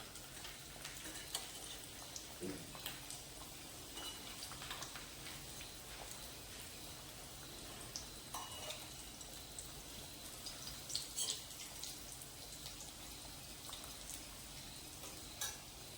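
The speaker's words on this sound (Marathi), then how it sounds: "आपण इकडचे डीप फ्राय मधले व्यवस्थित आपण आलटी पलटी मारून घेणार आहोत" Veg cutlets deep fry in oil with a soft, continuous bubbling sizzle, faint and even, broken by occasional light taps from turning them over.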